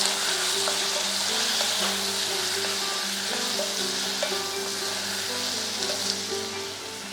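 Finely chopped tomatoes sauté with curry leaves in hot oil for a Tamil tomato kuzhambu, giving a steady close sizzle and frying crackle with occasional stirring, no voices.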